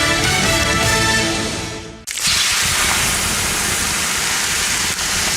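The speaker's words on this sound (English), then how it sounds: "The sound of water being poured on 800-degree rocks" Water poured onto 800-degree sauna rocks gives a loud, dense hiss that cuts off sharply, then a fresh burst of steamy sizzle roars on at steady strength, close and without voices.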